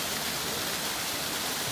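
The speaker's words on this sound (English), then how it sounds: "another waterfall. A lot of waterfalls" A waterfall roars on a hiking trail, a loud, dense, steady rush of falling water filling the whole moment without a break.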